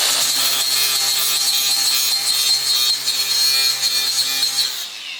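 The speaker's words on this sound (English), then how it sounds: "We're giving it a test run with the wire wheel, just to kind of see how good it cleans it up." A wire wheel on a power tool grinds steadily against metal in the engine bay of a turbo Nissan Hardbody truck, loud and close with a continuous abrasive whine and no talking.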